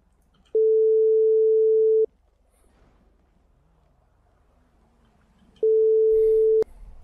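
A telephone ringback tone sounds while a call is being placed, two steady electronic beeps with a long quiet gap between them, loud and close.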